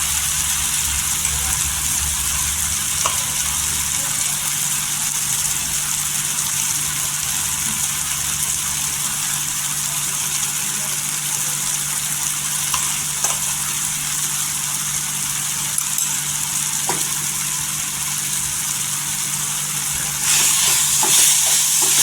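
Onion-garlic masala paste of ground dry coconut, garlic and ginger frying in oil for a brinjal curry, a steady close sizzle with faint stirring scrapes that continues without pause and swells slightly near the end.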